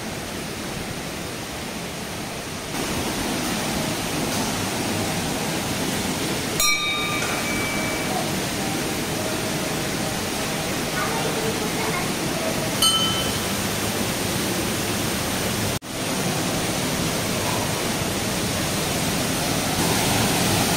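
Waterfall beside the Pataleswar Mahadev temple in Rayagada, Odisha, in full flow: a continuous, heavy roar of falling water, steady and close, with a few faint clicks over the top.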